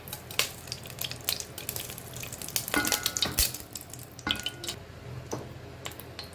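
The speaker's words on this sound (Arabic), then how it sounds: "هبدا بقى احط اللحمه بتاعتي" Beef shank pieces with bone marrow going into a hot pot with melted mastic, giving steady close frying sizzle with scattered crackles and pops, no talking.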